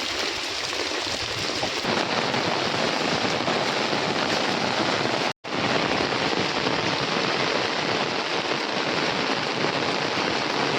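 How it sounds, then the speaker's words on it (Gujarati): Steady light rain falls and patters on a surface, a constant soft hiss throughout with a brief gap midway. "આ ટાઈપનો કંઈક વરસાદ છે અટાણે ધીમો ધીમો છે"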